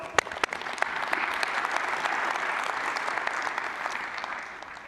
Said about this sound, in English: Give Sue a round of applause